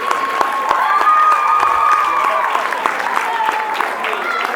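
An audience applauds a teacher at a school principal's speech, a dense, steady wash of clapping and crowd noise with scattered sharp claps and voices mixed in throughout.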